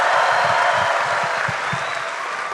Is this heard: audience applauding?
yes